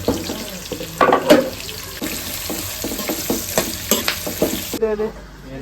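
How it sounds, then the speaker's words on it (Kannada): Onions and green chillies fry together in a pan with bay leaf, a busy sizzle broken by clattering stirs and scrapes, ending in a brief quieter moment; no one speaks. "ಈರುಳ್ಳಿ ಹಾಗೆ ಹಸಿಮೆಣಸಿನ್ಕಾಯಿ ಎರಡು ಒಟ್ಟಿಗೆ ಹಾಕೊತೀನಿ"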